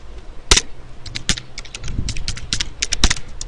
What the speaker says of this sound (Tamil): ஸோ HTML டைப் பண்ணுறேன் கோடு